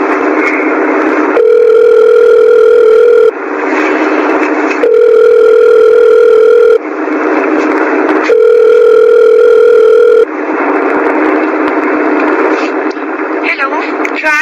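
Alternating bursts of a steady telephone dial tone and ringback tone loop over about fourteen seconds as a phone call is placed, loud and close, with a faint voice at the end.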